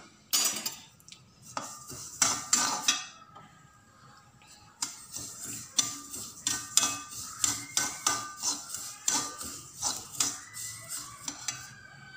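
Spices being dry roasted in a pan for sesame powder, heard as repeated metallic scrapes and clinks of a spatula against the pan in an irregular rhythm, close and fairly loud, with a short quieter pause partway through.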